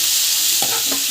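Brief close sizzle of ingredients sautéing in a pan, with a couple of spatula scrapes over steady frying hiss.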